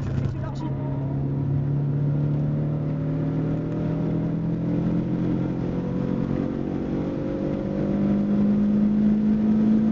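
A car engine accelerates steadily while cornering on a track, its rising drone close and loud throughout, with the pitch climbing gradually and holding strong toward the end.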